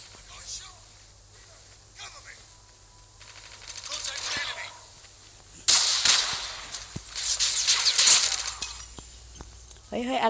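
Gunfire in the Call of Duty video game, with sharp bursts of shots and crackling rounds that grow louder midway through, mixed with game effects while a player talks over the action.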